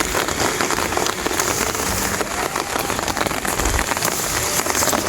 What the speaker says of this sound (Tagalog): Medyo payong po tayo kasi ang ulan